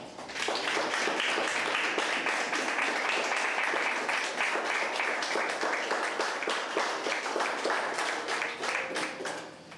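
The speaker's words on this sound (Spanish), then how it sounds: "Y dele un gran aplauso al Señor." A church congregation breaks into loud, sustained applause for the Lord, dense clapping filling the space steadily and tapering slightly near the end.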